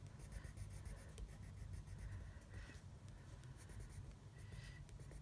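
Steady scratchy rubbing of pencil on paper, continuous and close, with soft strokes repeating throughout and no voices.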